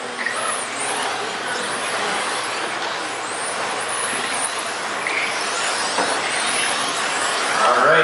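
Boosted 17.5 class 1:10 scale RC touring cars racing at an indoor trophy race A-main, a continuous high electric whine and buzz of several cars passing close, steady and fairly loud throughout.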